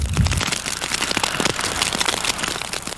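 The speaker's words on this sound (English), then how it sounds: "we are stuck with this freezing rain and these ice pellets for at least another 24 hours" Freezing rain and ice pellets fall hard during an ice storm, a loud, dense crackling patter of many small impacts continuing without a break.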